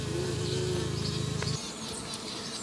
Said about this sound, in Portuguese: Mais um enxame aqui, ó, que utilizou bastante a cera.